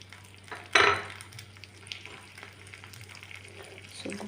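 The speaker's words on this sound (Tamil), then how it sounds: "ஸோ இந்த தேங்காய் நல்லா ஃப்ரை ஆகி வரட்டும்." Grated coconut and black grapes fry in a pan with a low steady sizzle. A sharp scrape or stir near the start gives a brief louder hiss, followed by faint clinks of the utensil.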